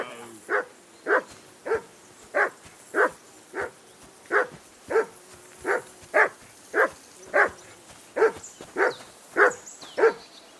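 In Kingdom Come: Deliverance II, a dog barks repeatedly and insistently, about eighteen loud, evenly spaced barks close by, with no talk over them.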